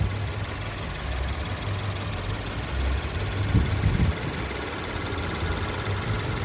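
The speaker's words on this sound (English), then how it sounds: "As you can hear, I do have the car running as well, so you can hear it." A 2015 Toyota 86 GTS with its Subaru boxer engine idles under an open hood, a steady low mechanical hum with a faint rhythmic thrum and a slight swell midway, no voices.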